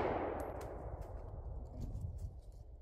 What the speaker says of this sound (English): 6 rounds at a single target, low ready in 3 seconds.